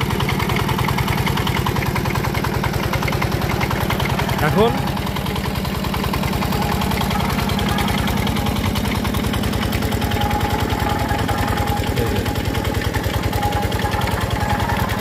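The gear system of a biogas plant turns with a steady, pulsing mechanical drone close by, a constant engine-like chug through the whole stretch, with a person speaking briefly over it.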